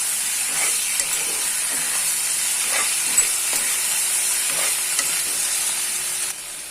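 Egg and soybean mixture stirred in a hot pan, with a steady sizzling hiss and soft scraping strokes repeating every second or so, close and continuous with no talking.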